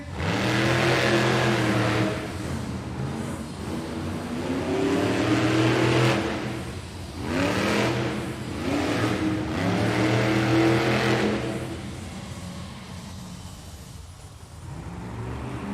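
A Monster Jam monster truck revs hard at the start line of an arena freestyle event, with loud repeated engine surges that rise and fall over several seconds before fading slightly.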